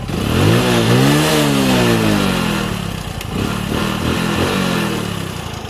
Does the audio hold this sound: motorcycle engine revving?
yes